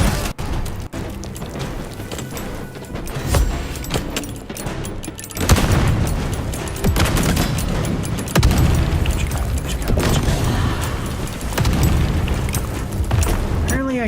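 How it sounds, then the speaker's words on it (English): Loud, dense combat from Vampire: The Masquerade – Bloodlines 2: booming grenade explosions and bursts of gunfire, with heavier blasts around the middle, all over a constant layer of game noise. "Apparently I can shoot those grenades out of the sky."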